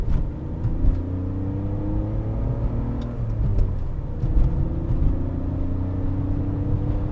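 A manual car accelerates smoothly up through the gears, its engine drone steady and close as the pitch climbs, dips at each shift and climbs again, with no voices.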